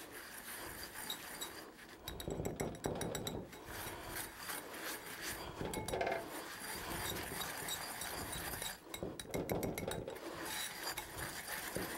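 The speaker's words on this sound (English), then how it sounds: "Scrape down those sides, just get it all worked together." A utensil scrapes and rubs around the sides of a bowl of pastry cream mixture, giving steady gritty scraping with occasional light clinks, close and fairly quiet.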